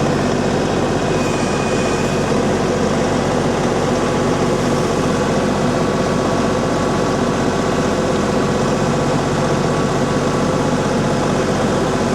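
A steady, low tractor engine idles continuously with a constant rumble and no change in pace, close by and fairly loud throughout.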